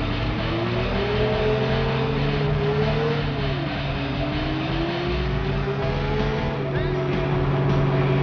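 Engine sound from a car and motorcycle driving in the game Watch Dogs, with the bike on railway tracks, drones continuously with rising and falling revs.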